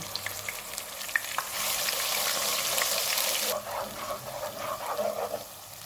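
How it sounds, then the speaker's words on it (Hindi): Ground onion sizzles and crackles in hot oil over medium heat, a bright hiss that swells then eases, with occasional stirring scrapes. "ग्राइंड किया हुआ 1 प्याज डालेंगे। चूल्हे को मीडियम रखेंगे। इसको 3 से 4 मिनट तक भूनेंगे।"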